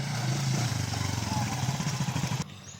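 A motorcycle engine putters and revs close by, its rhythmic chugging steady before cutting off abruptly.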